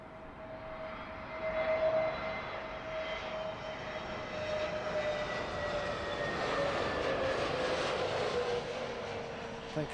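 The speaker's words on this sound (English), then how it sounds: "concentrate on the British Airways 777-200 inbound from Dubai" A British Airways Boeing 777-200 inbound to London Heathrow rumbles steadily overhead, a broad roar with a faint high whine, gradually shifting in pitch as it passes at a distance.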